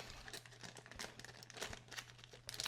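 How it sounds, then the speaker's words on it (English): Faint close crinkling and rustling of small paper envelopes being torn open to get at custom diecast model parts, with brief irregular bursts and no talking. "Let's tear into some of these so we can get a better look at what's in here, if I can get these open."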